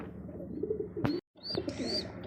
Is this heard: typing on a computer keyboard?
no